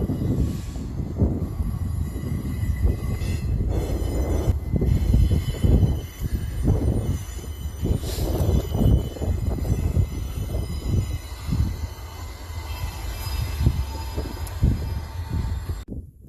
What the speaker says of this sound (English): He's got a long train.